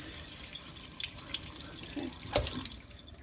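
A tap runs quietly while rinsing, giving a faint, soft stream of water with small splashes and drips, close by and with no talking.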